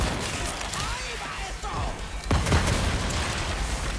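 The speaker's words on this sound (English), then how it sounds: "but you can take him out with the shotgun easily" Shotgun blasts in the video game Resident Evil 4 Remake, heard as a heavy burst about midway through amid dense game noise and a speaking voice.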